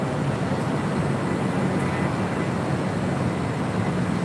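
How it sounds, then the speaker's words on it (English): A Sun Country Airlines Boeing 737-800 jet at LAX gives a steady, loud, broadband engine roar with no talk. "Sun Country Airlines Flight 428 heading to Minneapolis"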